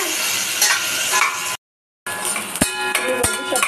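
Onion frying and being stirred in a hot pan for a lentil pulao, with a loud, close, continuous sizzle that cuts out briefly and then returns with a few sharp knocks of the spoon against the pan.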